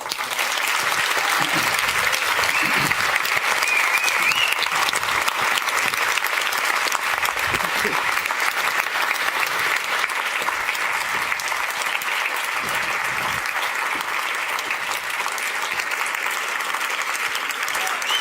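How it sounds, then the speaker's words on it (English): Warm, sustained applause from an indoor audience at the Balie in the Netherlands greeting guest Zineb el Rhazoui, loud and continuous for eighteen seconds, with a few faint voices underneath. "Give a warm applause to Zineb el Rhazoui."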